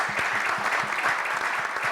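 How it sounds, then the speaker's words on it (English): An audience applauds children standing on stage at a climate neutrality conference session, a steady dense clapping that fills the room with no voices over it. "give them a huge hand of applause"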